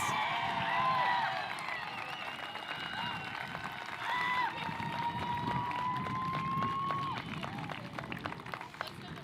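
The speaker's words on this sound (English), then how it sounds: "let's give one last round of applause for the class of 2024" A large crowd claps and cheers for the Tiverton High School class of 2024 at their graduation, sustained applause with high whistles sliding over it, busy and continuous for about nine seconds.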